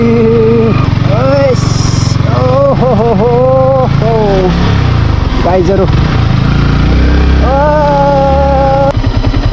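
Motorcycle ridden on a rough off-road stretch of a Nepal road trip, its engine droning steadily and loud throughout while a rider talks excitedly over it.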